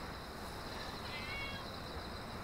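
A small kitten mews softly a few times, faint and close, over a steady background hiss with no talk.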